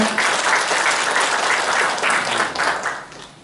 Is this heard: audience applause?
yes